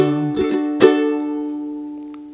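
A ukulele plays pre-chorus chords in a few quick strums, the last chord left to ring and fade slowly, close and clear with no voice over it.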